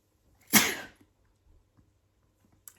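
A single sharp human sneeze bursts out near and loud, a brief explosive blast that quickly fades, followed by quiet room tone with a few faint small noises.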